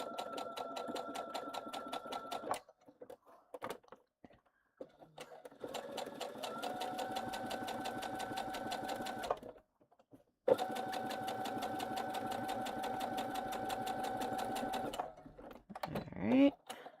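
A sewing machine top stitches in three long bursts of rapid, even needle clatter separated by short silent pauses, ending with some fabric rustling and handling noises.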